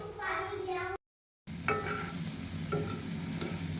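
Cabbage pakoras frying in hot oil, a soft continuous sizzle with light stirring, partly under a voice and a break of silence.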